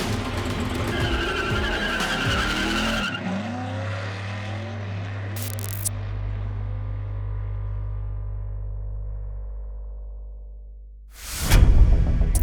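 Race car driven around Pikes International Raceway, heard as a loud, sustained engine drone with tyre squeal and skidding, the pitch sweeping and fading before a sharp burst of noise near the end.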